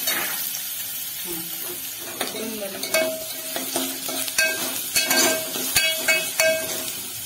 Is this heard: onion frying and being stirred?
yes